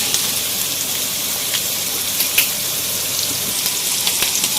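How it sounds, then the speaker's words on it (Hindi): Finely chopped onions frying in oil in a pan give a steady, even sizzle with faint pops and crackles, close by and without talk. "यहाँ पे मुझे प्याज में फ्राई करूँगी, लेकिन इसको बिल्कुल ब्राउन नहीं करना है"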